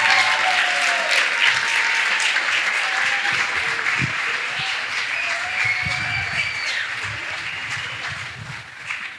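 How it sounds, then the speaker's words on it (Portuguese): Sustained audience applause fills the whole stretch, a broad wash of many hands clapping with scattered cheers, holding steady before tapering slightly. "uma grande salva de palmas"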